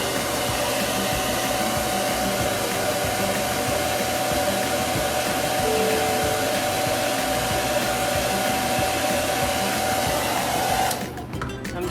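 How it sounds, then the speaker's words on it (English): A hair dryer blows steadily on freshly applied chalk paint, a loud, continuous close-up whir that runs nearly twelve seconds before cutting off. "I'm going to go ahead and blow dry it"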